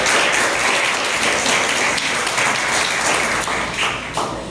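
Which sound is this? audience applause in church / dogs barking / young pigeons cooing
audience applause in church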